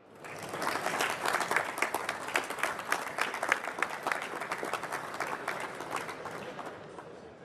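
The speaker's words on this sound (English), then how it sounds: "And also, please give a round of applause to Jeremiah Clark." An awards-ceremony audience at a stone-industry event breaks into steady applause that swells quickly, holds dense and even for several seconds, then fades out at the end.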